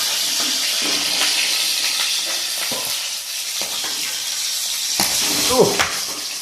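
Pieces of katla fish fry in hot oil, a dense, bright sizzle broken by sharp pops and spatters, with a louder burst near the end and people talking quietly over it.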